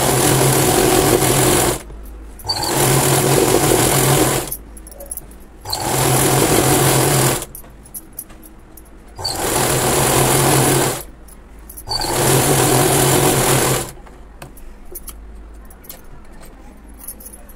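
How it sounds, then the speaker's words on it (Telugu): Five bursts of close, loud sewing machine running, each about two seconds long with brief pauses between them, as a double stitch is sewn along the bottom of a Punjabi dress in place of overlocking. "ఇప్పుడు దీని మీద డబుల్ స్టిచ్ వేసుకోవాలి."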